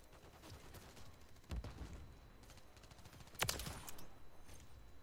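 A DTIR 30-06 rifle fires on the small Shipment map in Call of Duty. Faint, distant-sounding shots and bursts roll under a steady battle din, with two stronger volleys standing out and no talking.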